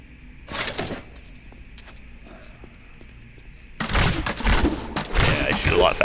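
Rapid dual-weapon shooting in the Diablo 3 video game, with quick bursts of shots and clinking loot sounds, quieter at first and then a loud, dense volley over the final two seconds.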